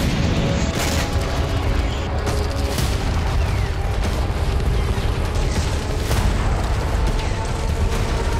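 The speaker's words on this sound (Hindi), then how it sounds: "बेहिसाब बारूद बरसाया" Russian shelling in the Ukraine war, heard as a loud, dense, continuous rumble of booming explosions and artillery fire with sharper blasts standing out now and then.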